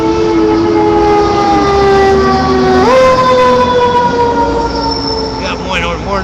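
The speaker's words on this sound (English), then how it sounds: "More noise pollution courtesy of our fire department." A fire truck siren wails loudly and nearby, its tone sweeping up and down. It passes with a pitch shift partway through, and a voice is heard speaking alongside it.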